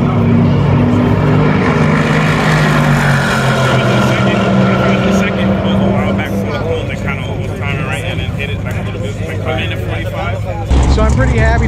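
A stock C8 Corvette and a twin-turbo Stage 1 C8 race side by side at a track, engines screaming at the rev limiter in a loud, sustained roar with shifting pitch and a sudden surge near the end.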